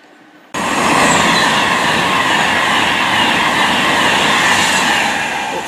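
A Class 390 train thunders through South Kenton station on the West Coast Main Line. The roar begins abruptly and then holds steady, loud and close, with continuous rail noise throughout.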